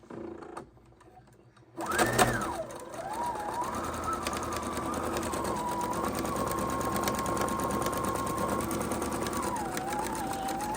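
A sewing machine stitches a star quilt block in one long, steady, fast run, humming close and even for about nine seconds after a brief quiet start.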